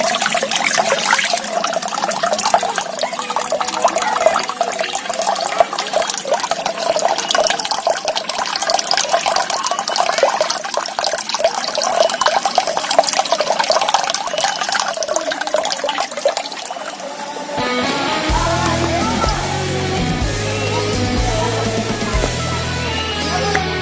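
Clear water rushing steadily in a village pond or stream channel, a loud continuous splashing wash that shifts to a thinner, trickling flow near the end, with no talk.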